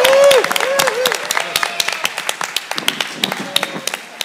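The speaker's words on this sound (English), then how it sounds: "The presenters are coming, receive them with applause." An audience at the Launch 2011 conference session claps to welcome the presenters. A brief tonal whoop opens the sound, then scattered, uneven hand claps taper off into sparse individual claps.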